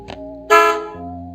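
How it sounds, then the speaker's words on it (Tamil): A single short car horn honk, loud and close, sounding once with a brief lower tail and no voices. "just car horn"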